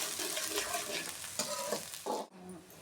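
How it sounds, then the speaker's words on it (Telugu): Onions fry in oil with cumin seeds while being stirred, producing a close sizzle broken by scraping stirs, with a brief quieter gap near the end. "ఉల్లిపాయలు మంచిగా ఫ్రై అవుతుంది ఉల్లిపాయలు ఎర్రగా వేసుకోవాలి నూనెలో"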